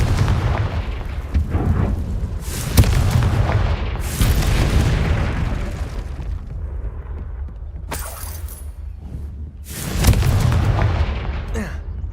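Loud, booming blasts from the Confringo explosion spell in the game Witch Simulator 2023, several heavy bursts spread over the stretch with rumbling tails between them.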